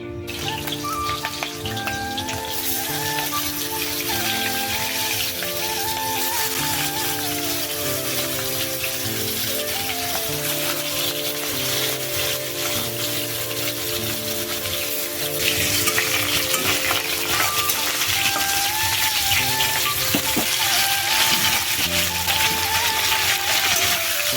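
Two woks (kadai) sizzle side by side, one holding a ghonto with peas and the other cauliflower and potato, with a loud, steady frying hiss and some stirring throughout.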